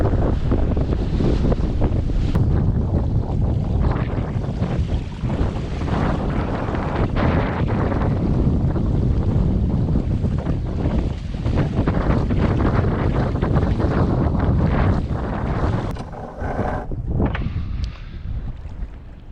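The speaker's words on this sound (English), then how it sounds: "as we close the shore, the wind will probably ease up too" Strong wind roars over the microphone on a sailboat at sea off the coast near Lunenburg, with a dense, buffeting rush and water wash that stays loud throughout and eases slightly near the end.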